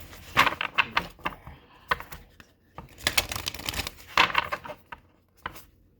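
Tarot cards shuffle in quick bursts of crisp riffling and slapping, close and clear, with short pauses between each round of shuffling.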